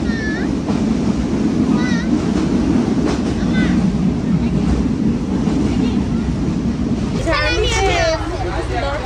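A moving train rumbles loudly and steadily from inside a carriage, with a constant low clatter and roar under people talking nearby; the rumble briefly eases near the end as voices carry on.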